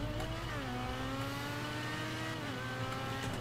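A car in GTA 5 Online, a JB700W, boosts and accelerates with a loud revving engine, its pitch climbing through rising gear sweeps before dropping and climbing again, with no speech over it.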